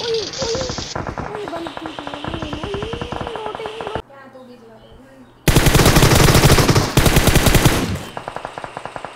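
PUBG gunfire: loud, rapid bursts of automatic shots hammer in long strings near the listener, pause briefly, then return even heavier, with a player's voice speaking over the opening bursts.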